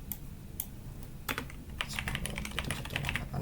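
Rapid, irregular keystrokes on a computer keyboard as an IP address is typed during VLAN and NAT network setup, a close and steady clatter of clicks with brief pauses and no voices.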